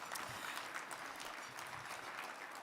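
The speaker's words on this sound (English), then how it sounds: "Please give them a round of applause." Conference audience at a U.S. Conference of Mayors winter meeting lunch applauds the staff, a broad, continuous wash of clapping from a large room, moderately distant and steady, with no speech over it.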